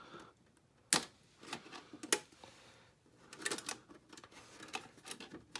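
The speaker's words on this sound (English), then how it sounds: "I'm going to use my industrial nippers" Heavy-duty industrial nippers cut through large plastic zip ties on toy packaging, giving a series of sharp, separate snaps at irregular intervals, close and fairly quiet, with faint rustling between cuts.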